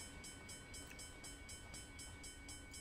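A freight train in Train Simulator 2020 rolls past near Sherman Hill in Cheyenne with a continuous rumble and regular rhythmic wheel clacks, alone and fairly faint.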